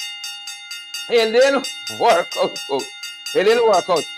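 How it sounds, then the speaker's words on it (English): A bell's steady ringing tone hangs faintly behind a person talking in short phrases during a live show. "Ring the bell one more time."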